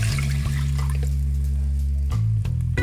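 Water pours steadily into a pan, about 500 ml measured out, a continuous liquid rush that keeps running before a short clatter near the end, with no voices.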